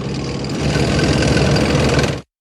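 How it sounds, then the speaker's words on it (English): A heavy engine runs with a steady, rough, clattering rumble for a couple of seconds, then cuts off abruptly. "Tank."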